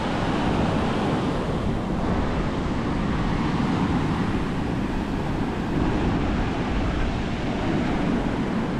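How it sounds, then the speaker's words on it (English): Ocean waves wash onto Kamala Beach in Phuket in a steady, loud roar of surf, mixed with gusting wind buffeting the microphone and no voices. "I love these waves."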